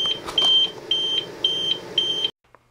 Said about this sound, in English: after 29 minutes of that beeping, it finally shut itself down.